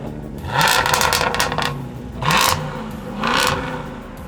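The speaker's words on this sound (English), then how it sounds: "And now I'm sending Anthony out in something much more sedate, a 660 horsepower F-Type." A 660 horsepower Jaguar F-Type SVR V8 sports car revs and pulls away in three loud rising engine bursts, each swelling then easing off, close by with no talk.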